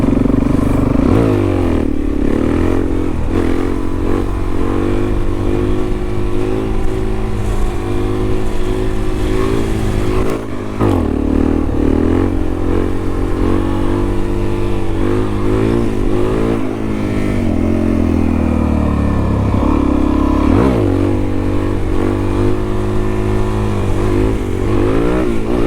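Suzuki DRZ400 dirt bike ridden on a local trail, its single-cylinder engine loud and close throughout, rising and falling as the throttle opens and closes with brief dips, no talk over it.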